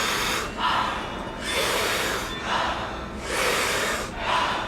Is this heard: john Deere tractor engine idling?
no